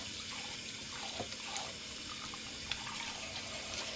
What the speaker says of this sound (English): Nowadays, I actually wash at least 6 bunches of celery at a time